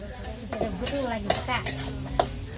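Chopped onion browning in a pan for a wild-vegetable curry, a steady low sizzle with a spoon scraping and clinking against the metal every half second or so, close up, with no voices.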